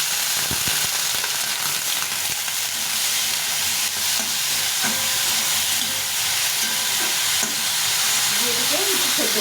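Cauliflower simmering with turmeric and a splash of water in a pan, a loud, steady hissing sizzle with steam, and faint stirring noises late on.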